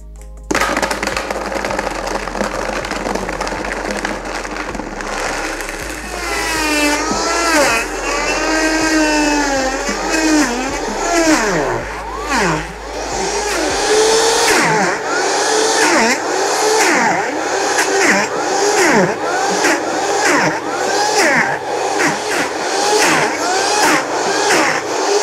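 A blender churns frozen strawberries into vegan dairy-free sorbet, its loud motor whine climbing in pitch as the speed is stepped up from low through middle to high, with the grinding of the icy fruit running underneath the whole time.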